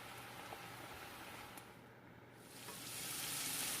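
Mushrooms and onions sauté with honey in a hot pan, giving a steady close sizzle throughout with a faint stir midway and the frying swelling louder toward the end.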